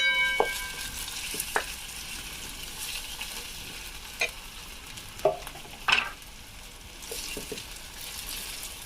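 Onion frying in oil in a pan for a green pigeon pea paneer curry, with a steady low sizzle and a few sharp spatula scrapes and clinks as it is stirred, close up with no talking.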